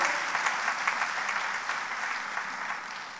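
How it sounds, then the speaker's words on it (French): Church congregation applauding steadily during a sermon, a dense wash of clapping from many hands that holds at an even level for a few seconds, with no voices over it. "Acclamez Jésus."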